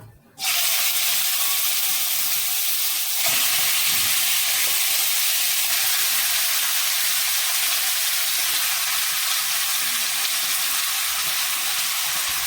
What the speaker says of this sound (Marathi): तेल गरम झालं की जिरे टाकू जिरे चांगले तडतडले की आपण हळद आणि मीठ मिक्स केलेलं चिकन यामध्ये टाकून घेऊ